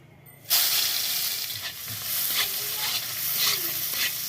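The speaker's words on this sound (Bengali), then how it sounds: "এবার দাঁড়াও এবার পেঁয়াজ দিয়ে দেবো" Onions drop into a hot iron wok and burst into a loud, sudden sizzle, which then settles into steady frying with a few soft stirring scrapes and no talking.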